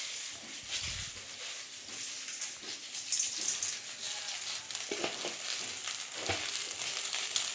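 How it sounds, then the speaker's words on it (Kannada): Okra pieces fry in a pan of oil with a pinch of rock salt, giving a steady close sizzle broken by a few soft knocks of stirring, with no talking. "ಹಾಗೆ ಒಂದು ಸ್ವಲ್ಪ ಕಲ್ಲುಪ್ಪು ಹಾಕ್ಕೊಂಡು ಹುರ್ಕೊಂಬಿಡೋಣ"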